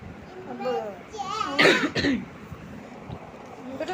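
A child with a cold and phlegmy chest congestion talks briefly, then coughs twice in quick succession, close to the microphone, followed by quiet breathing and soft voice.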